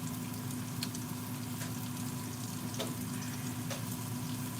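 Quiet, steady frying in a pan with a low hiss and occasional faint pops and crackles, no voices, while lamb chops and yams are cooked.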